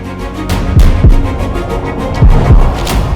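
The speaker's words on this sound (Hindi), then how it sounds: "तुम चाहो तो मेरी दिल की धड़कन को सुन भी सकती हो" Deep, close heartbeat thumps in a steady lub-dub rhythm, several beats over a low droning hum.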